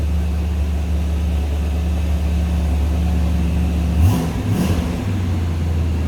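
A 1972 Oldsmobile Cutlass Supreme's Rocket 350 V8 idles with a steady low rumble, briefly blipping the throttle for a short rev before settling back to idle.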